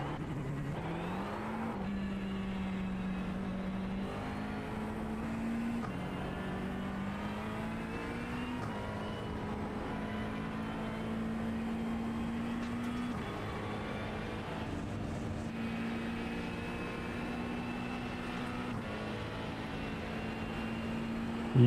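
A McLaren GT3 race car engine howls lap after lap at Watkins Glen in a racing game, a steady sustained drone rising and dipping through gear changes, alone with no voices.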